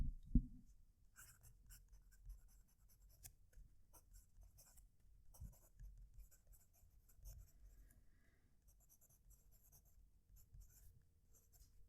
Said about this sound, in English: Let's do our writing sample.